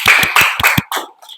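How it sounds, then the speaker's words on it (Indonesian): A handful of people clap briefly in a classroom, about five quick close claps followed by a few scattered fading ones, lasting just over a second. "Tepuk tangannya dulu."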